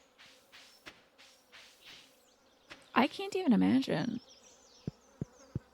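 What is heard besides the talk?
buzzing of bees in Stardew Valley video game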